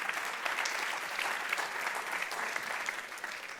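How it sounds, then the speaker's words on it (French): An audience claps at a regional sports merit awards ceremony. The applause is steady and continuous, moderately loud, with no voices over it, and fades slightly at the end. "on peut applaudir."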